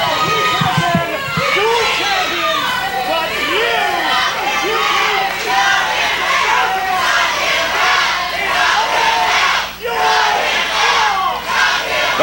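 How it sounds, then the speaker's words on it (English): Wrestling crowd at a CWF Mid-Atlantic Wrestling show shouting and chanting, a dense, loud, sustained roar of many voices with a brief dip near the end. "The crowd is calling for Ethan Sharpe's head."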